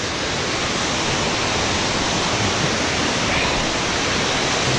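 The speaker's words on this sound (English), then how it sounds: "Yeah, we can start a new waterfall." Water pours down a waterfall in a loud, steady, broadband rush that fills the whole stretch without a break and with no voices.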